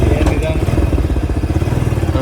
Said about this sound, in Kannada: ಸೈಲೆನ್ಸರ್ ಹೊಸ ಎಕ್ಸಾಸ್ಟ್ ಹಾಕ್ಸೈತ್ ಕಣೆ.